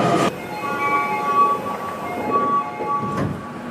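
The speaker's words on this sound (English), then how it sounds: "Okay, this is the train I'm going to take." Toei Shinjuku line train at Shinozaki Station in Tokyo, a steady rumble with faint tonal whine and a brief clatter near the start and again near the end, heard close on the platform.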